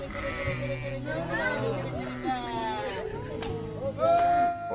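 A flock of sheep bleats loudly and repeatedly, many overlapping wavering calls near and far, with a burst of louder bleats toward the end.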